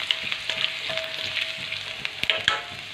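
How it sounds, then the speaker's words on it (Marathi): Ginger sautés in hot oil with a continuous bright sizzle, broken by scattered light scrapes and clicks of a stirring spoon, close and steady. "आलं छान तेलामध्ये परतून घ्यायचं"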